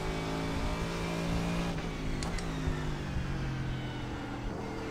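Mercedes-AMG GT3 race car in the iRacing sim during an IMSA race at Road America: a loud, close, sustained engine drone with steady harmonic tones and slight pitch shifts, no talking.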